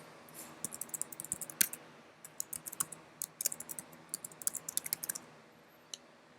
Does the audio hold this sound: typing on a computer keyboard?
yes